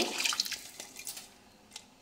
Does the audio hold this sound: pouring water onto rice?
yes